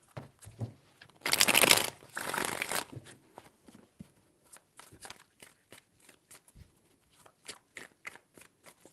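A brisk riffle of tarot cards shuffled once for about a second and a half, then scattered soft taps and clicks as the deck is handled.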